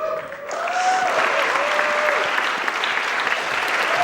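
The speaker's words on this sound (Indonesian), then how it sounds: "Tepuk tangan sekali lagi untuk Akbar." A stand-up comedy audience breaks into applause for a comedian, a dense, even wash of clapping that swells quickly and holds steady at full strength, with a faint voice briefly audible underneath.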